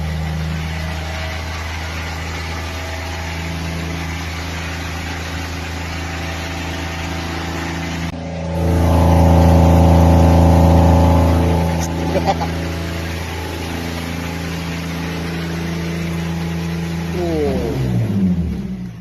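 A car engine idles high, then revs up loud and close around the middle before settling back to a steady drone, with someone talking over it.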